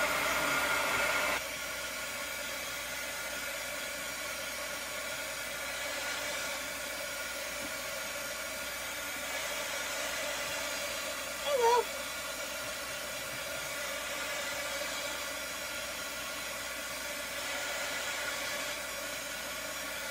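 A hair dryer blows steadily on a craft project, a continuous broadband whoosh held at an even level for the whole stretch, with a brief small clunk partway through and no talking.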